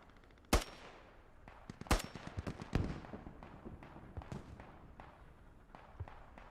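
Gunfire in the video game Squad, sharp loud single shots followed by rapid bursts and scattered distant cracks, irregular in rhythm and tapering off toward the end.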